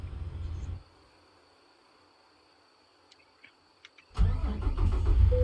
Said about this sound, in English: Wake up in the morning, get the truck warming up.